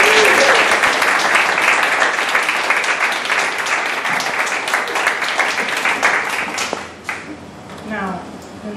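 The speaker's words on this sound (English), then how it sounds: "Could we have another round of applause for all of them?" Sustained audience applause for performers at a songwriting contest, dense steady clapping for about seven seconds, with some cheering in the hall and a voice coming in as it tapers off.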